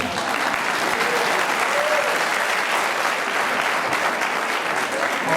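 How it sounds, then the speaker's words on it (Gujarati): An audience at a religious discourse claps in steady, loud, sustained applause that fills the whole stretch, with no one talking. "હવે તાળીમાં કંઈક દમ આવ્યો."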